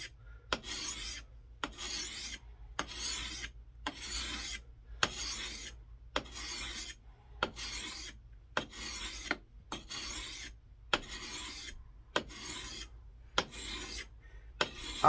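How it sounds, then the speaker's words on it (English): Steady back-and-forth strokes honing the edge of a new Marbles camp axe, a raspy file-like scrape repeating about every three-quarters of a second, close and fairly loud, with no talking. "we'll start honing that edge"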